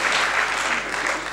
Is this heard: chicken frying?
no